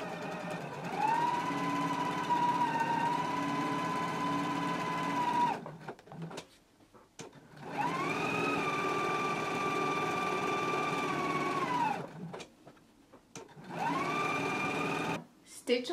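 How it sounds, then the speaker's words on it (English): A sewing machine stitches along the side and lower edges of a pants pocket in three steady runs, the first and second long and the third shorter, separated by brief pauses, its motor whirring loud and close. "I'm gonna take it to the sewing machine and we're gonna stitch along the sides and the lower edges of the pocket"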